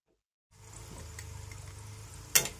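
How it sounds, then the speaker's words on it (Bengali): Onions frying in oil for birista, the crisp fried onion garnish for prawn biryani, give a steady soft sizzle with faint stirring scrapes, close up, ending in a brief sharper hiss. "পেঁয়াজ বেরেস্তাটা একেবারে সুন্দরভাবে গোল্ডেন লাল হয়ে গেছে"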